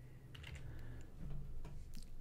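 A call sign being typed on a computer keyboard in logging software: a short burst of quick, light key clicks, close and quiet, with no voices.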